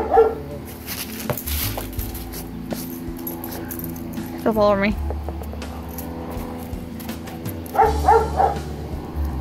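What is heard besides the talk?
neighbor dogs barking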